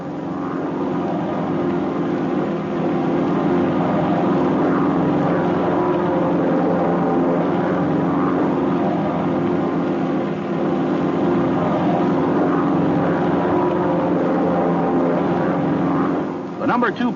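Loud, steady drone of propeller aircraft engines from planes flying in formation, a thick continuous roar holding level throughout.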